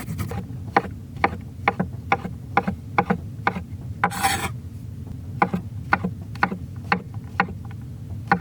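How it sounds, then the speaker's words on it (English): Fresh ginger is rasped across a grater in a winter camping truck, a rhythmic series of short scraping strokes, close and distinct, each stroke about half a second apart, with one longer rub midway. "So I'm just gonna grate 1 tablespoon of ginger."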